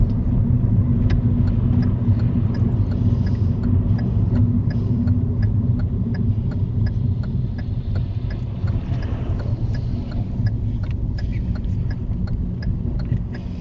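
A car driving on a road during a driving lesson, giving a steady low engine rumble and road noise throughout, with faint ticking over the drone and no talking.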